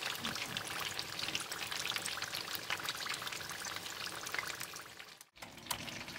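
Spring rolls fry in a pan of oil, giving a continuous crackling, bubbling sizzle heard close up that cuts out briefly near the end and then resumes.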